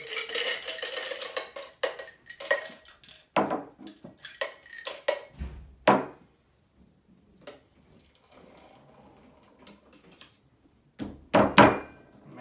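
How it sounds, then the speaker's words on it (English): A cocktail shaker full of ice and egg-white foam is shaken hard and close, ice rattling in fast bursts broken by short pauses, with a few clanks of metal and glass between. "Now we can shake with ice."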